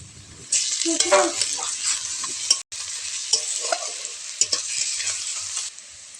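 Garlic paste is added to frying onion and stirred in a pan, a steady close sizzle with scraping and clatter of the spoon, interrupted by one brief gap.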